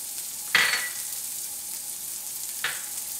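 Onion and celery hitting hot oil in a pan give a steady frying sizzle, with two sharper bursts of crackle from stirring or added pieces, close and moderately loud with no talking.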